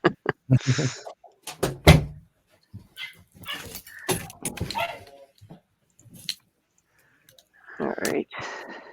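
A new puppy barks and yips in short, scattered bursts indoors, close and fairly loud, mixed with clicks and thumps and a few overlapping voices.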